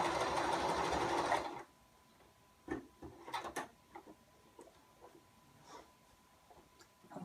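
A sewing machine runs a fast, steady stitch along a girl's dress seam for about a second and a half, then stops; afterwards come scattered light clicks and handling knocks of fabric and machine parts at close range.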